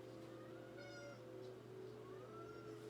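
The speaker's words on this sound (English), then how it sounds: "my cat is like scratching at the door" A house cat meows faintly a few times behind a closed door it is scratching at, the calls thin and distant over a steady low indoor hum.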